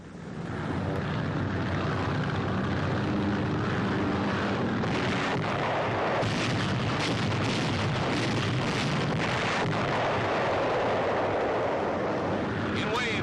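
Allied bombers strike Cassino in wartime: a heavy drone of aircraft engines fills the air, broken midway by a cluster of sharp, booming bomb blasts before the roar settles back to a steady rumble.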